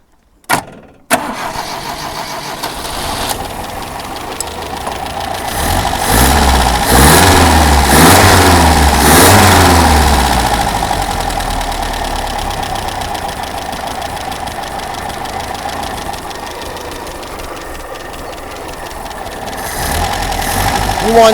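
A 1980s Daihatsu 4x4 engine starts up after a brief silence and runs steadily, with a swell of revving before settling into a continuous idle, loud and close, with people talking over it.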